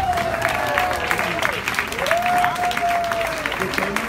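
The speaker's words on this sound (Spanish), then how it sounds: "Un aplauso para ellas, por favor." Audience applause at a blues and rock women's tribute event in Mexico, steady dense clapping throughout, with a sustained tonal whistle or feedback line running over the crowd.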